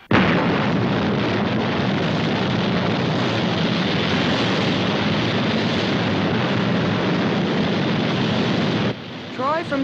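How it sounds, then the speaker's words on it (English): A roaring rocket blast-off from a puppet science-fiction TV series, a loud, continuous broadband thunder that holds steady for about nine seconds before cutting off abruptly, followed by faint trailing sounds. "Blast off."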